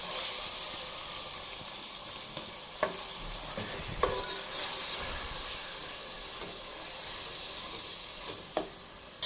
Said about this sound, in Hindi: और साथ ही कीमा डालना है। आज हम बीफ का कीमा बना रहे हैं।